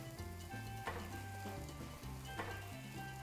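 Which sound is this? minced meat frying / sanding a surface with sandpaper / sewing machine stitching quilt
minced meat frying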